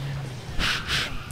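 Ear scratched right beside the microphone during a Grand Theft Auto IV play session: two short, close, scratchy rubs in quick succession over a low, steady background hum.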